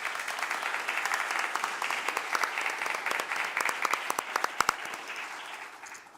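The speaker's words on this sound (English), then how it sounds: "let's give another round of applause to everyone that's so involved with making it happen" Audience applause at a United Way Guelph Wellington Dufferin campaign kick-off event, a steady wash of many hands clapping that carries on for several seconds and tapers off toward the end, with a few sharper individual claps standing out.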